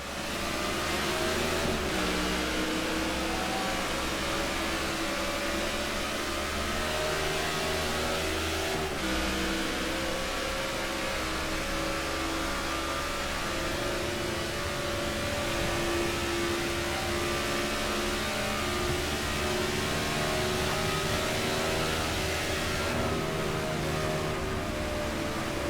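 Stock cars in the NASCAR '15 video game roaring off at the green flag at Kansas Speedway, a mile-and-a-half oval: a dense, continuous engine drone with shifting revving tones, loud and steady for the whole stretch, no talk.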